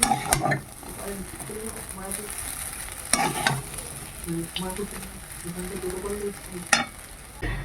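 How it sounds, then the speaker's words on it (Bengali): Vegetable chow mein is stirred and tossed in a hot pan, giving a steady low sizzle broken by repeated scraping and clattering strokes of a utensil, while a person talks intermittently. "এবার ভালো করে মিশিয়ে নেব"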